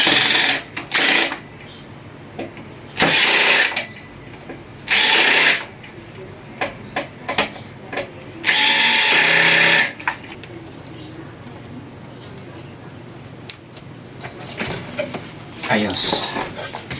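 Power drill on setting 7 whirring in several short, loud bursts while a flood-damaged Carrier inverter aircon unit is serviced, with quieter clatter of tools and parts between the bursts.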